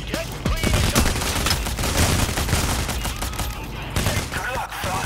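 Dense gunfire from a SWAT shootout in PAYDAY The Heist's Diamond Heist: continuous overlapping shots and automatic bursts, loud and close, with shouted voices mixed in throughout.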